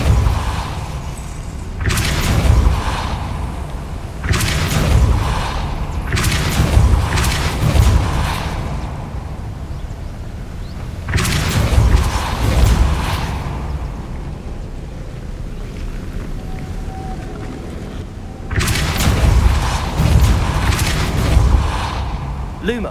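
In Hogwarts Legacy, the Depulso spell is cast repeatedly, each cast a loud, rumbling, whooshing blast lasting a second or two, separated by quieter stretches, with a voice calling out spell names.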